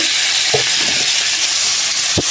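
Vegetables dropped into a simmering pot of Filipino fish paksiw, giving a steady broadband sizzle and hiss with a few soft clunks of stirring, close and fairly loud, no voices.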